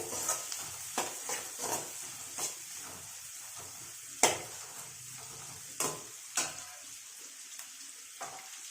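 Onion sautéing over high flame for egg fried rice, a soft hiss broken by intermittent clinks and scrapes of a spoon against the pan, fairly quiet and close.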